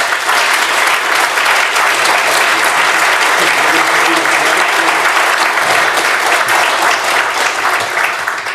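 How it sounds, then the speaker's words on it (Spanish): Loud, dense applause from an audience welcoming guests at a poetry and literary tribute evening in the Palacio de Bellas Artes, sustained evenly and close for the whole stretch. "Les pedimos un fuerte aplauso para nuestros invitados."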